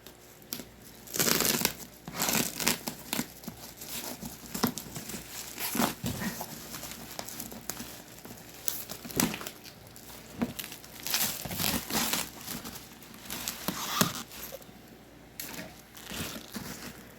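A dbx feedback destroyer's tightly wrapped packaging being opened, with close, irregular crinkling and tearing of plastic and paper in repeated bursts, no talk.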